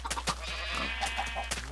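Video game sheep bleat in quick succession, a few short wavering calls close up and fairly quiet, with no talking over them.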